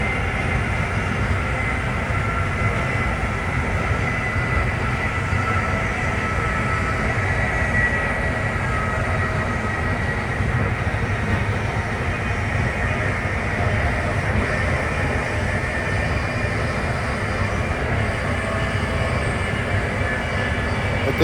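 Interior rumble of Amtrak train #183 running at speed between New York and Philadelphia, a loud, continuous low roar with steady wheel-on-rail drone and faint rhythmic clatter throughout, no voices.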